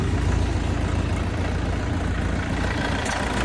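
An Orion 404 PRO tractor's engine idles steadily before driving off, a constant low rumbling drone close by with no voices over it.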